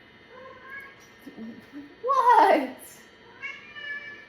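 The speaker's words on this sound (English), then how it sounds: "I have a screaming cat in my house." An indoor house cat lets out a loud, screeching meow from on top of a fridge, wavering for about half a second between quieter background calls; a person briefly speaks nearby.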